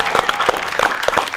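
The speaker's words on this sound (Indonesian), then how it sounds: "Tepuk tangan dulu dong" A small group gives a brief burst of applause after a beatbox performance. Several quick, close hand claps patter unevenly for just over a second.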